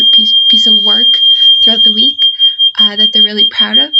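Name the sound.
alarm going off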